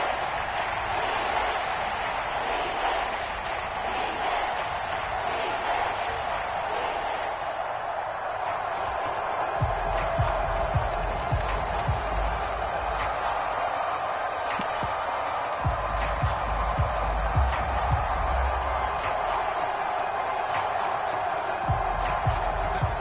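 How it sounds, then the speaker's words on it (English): A video game football stadium crowd roars in a steady wash of cheering and applause that swells as a big third down approaches, with a commentator talking over it. "the crowd getting into it as we come up on a big 3rd down"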